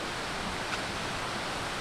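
Steady broadband rush of a waterfall on a hiking trail at Pictured Rocks, a continuous even wash of falling water heard alone with no voices.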